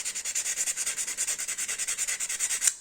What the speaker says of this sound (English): So I started sanding